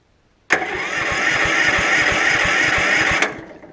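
A 420cc engine on a Case 700 series tractor, choke off on a warm day, catches abruptly and runs loudly and close with a steady, thumping single-beat rhythm for about three seconds before cutting out. No one speaks.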